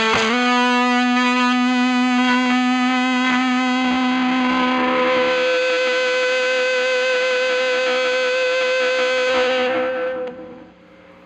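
Distorted electric guitar with single-coil pickups, cranked loud, holding a sustained chord buzzing with pickup noise for about ten seconds before it fades out, with no talking.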